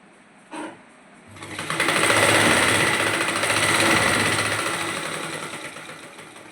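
After a single click, a sewing machine starts and runs steadily for several seconds with a fast, even whirring rattle, close and loud, while stitching lace onto a salwar.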